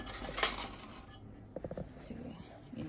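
A small glass microwave oven plate handled and set down during an unboxing, with a few light clinks and a quick rattle of glass against a surface, faint and close, alongside quiet talk.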